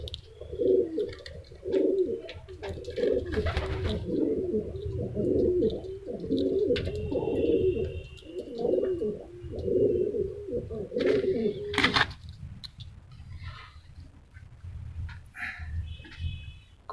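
A friend's pigeons in Ludhiana, kept for a Dussehra cup contest, coo densely and continuously at close range for about twelve seconds, then the loft falls quieter with only scattered sounds.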